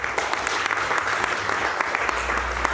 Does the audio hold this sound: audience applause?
yes